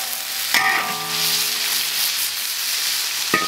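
Eel and chili peppers stir-fried in a wok: a clattering scrape of the spatula opens into a steady, close sizzle that runs for a few seconds, ending with another brief clank of the utensil.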